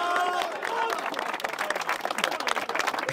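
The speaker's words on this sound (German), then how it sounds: "Applaus. Applaus für Rina" Crowd applause with dense clapping and some cheering voices, steady throughout, with chatter mixed in.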